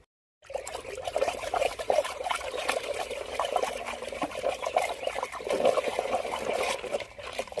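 Wooden stick swirling pesticide mixed into a tank of water for spraying potatoes, giving a steady sloshing, trickling churn that starts abruptly and continues close and moderately loud without speech.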